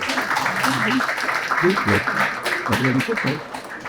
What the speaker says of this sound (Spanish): Otro fuerte aplauso, por favor